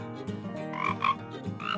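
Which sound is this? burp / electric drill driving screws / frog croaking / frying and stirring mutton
frog croaking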